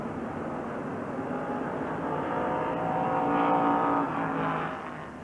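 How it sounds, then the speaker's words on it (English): Winston Cup stock cars race under the lights at Richmond, Virginia, in the 1993 Miller Genuine Draft 400, making a continuous far-off engine roar. The roar swells and then fades slightly as the pack passes. "this marvelous view of what Winston Cup racing looks like under the lights"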